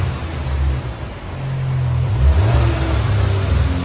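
The 2.0 turbo engine of a 2021 VW GLI with the resonator deleted revs loudly up close, a steady drone rising in pitch as the throttle opens, with no talking.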